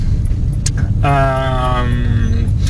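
Steady low road rumble and engine drone fill the cabin of a moving car, a constant close hum with a brief tonal whine rising mid-way, and no clear talk over it.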